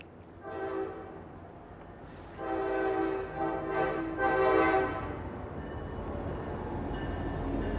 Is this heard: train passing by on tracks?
yes